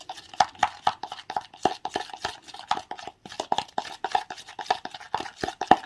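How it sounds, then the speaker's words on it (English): A homemade skin-lightening paste is stirred briskly in a small bowl, with rapid, irregular scraping and tapping strokes repeating close by and alone throughout. "we will mix them all together just like this"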